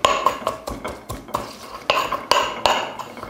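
Garlic mashed in a mortar with a pestle, close rhythmic grinding and knocking strokes about twice a second, each a short scraping thud, with no talking.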